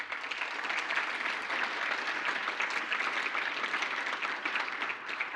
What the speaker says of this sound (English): A round of applause again before we close.